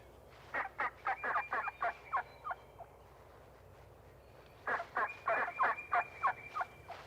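Wild turkeys gather in a flock on an open Missouri Ozarks meadow, gobbling in two loud bursts of rapid rattling calls separated by a quiet pause.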